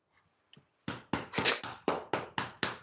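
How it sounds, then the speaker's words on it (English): Someone slaps one hand against their own leg in mock applause: eight sharp, evenly spaced smacks close by, preceded by a couple of faint taps. "And like one-handedly applauds against his leg"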